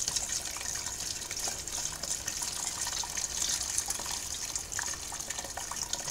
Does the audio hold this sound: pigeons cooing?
no